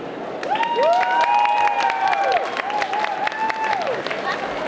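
An audience applauds and cheers at a cosplay parade during a Japan-themed festival, steady clapping that continues throughout under an emcee's voice speaking over it.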